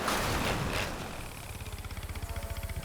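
A vehicle engine in Jurassic World Evolution 3 runs loudly and close, settling into a steady pulsing throb after a noisy start.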